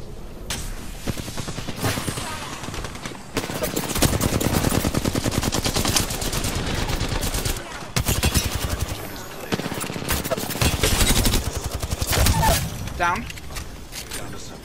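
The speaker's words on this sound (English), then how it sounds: "Getting shot at." Heavy gunfire in the battle royale shooter Apex Legends, with dense bursts of automatic weapons, crackling impacts and shattering across a long exchange while players talk excitedly over it.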